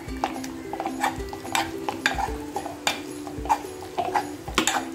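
Cooked whole masoor lentils are mashed in a pot with repeated soft squelching presses and light metallic taps in a steady rhythm, close up, with no talk.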